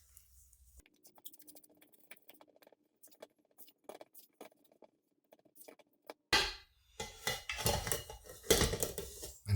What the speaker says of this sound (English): Give everything a preliminary mix with a fork